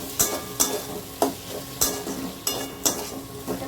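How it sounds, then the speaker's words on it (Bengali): Spice masala being stirred and fried for a kabuli chickpea curry, with a sizzle throughout and about six regular, loud scraping strokes of a spatula across the pan. "দিয়ে ভালো করে মশলাটাকে কষাবো"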